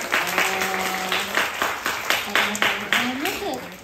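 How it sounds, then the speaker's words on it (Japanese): Audience clapping at a birthday stage performance, rhythmic claps in regular bursts under a voice speaking over them. "聞こえてたら拍手して"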